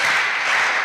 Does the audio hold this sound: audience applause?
yes